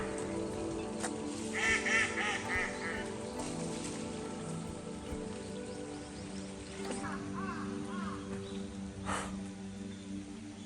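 Ducks that are not mallards call in a park pond at Naritasan Park in Japan, scattered honking quacks rising at intervals over a soft outdoor background, with some quiet talk in between.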